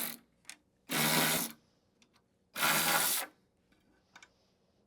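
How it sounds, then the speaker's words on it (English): Two bursts of a ratcheting tool loosen 7 mm taillight bolts on a Ford Bronco, each roughly half a second of close, loud whirring clicks separated by quiet pauses with faint taps. "So there are 4 bolts you're gonna be removing here that are 7 millimeters."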